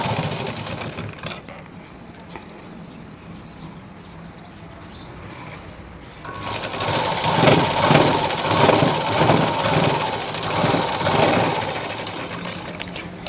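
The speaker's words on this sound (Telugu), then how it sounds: "సైడ్ జాయింట్ స్కేల్ నుంచి స్టార్ట్ చేయాలి కుట్టడం అనేది" Sewing machine stitching a side joint on the main cloth, a low background hum that swells at mid-clip into a louder, continuous rhythmic mechanical whir running steadily to the end.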